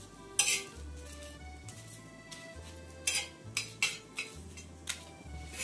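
Bay leaves and chili dry-roasting in a pan, with a few sharp scrapes and clinks of a utensil against the metal over a low steady hum, spaced irregularly and fairly close.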